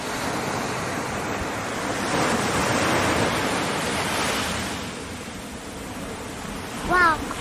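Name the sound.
ocean waves at the beach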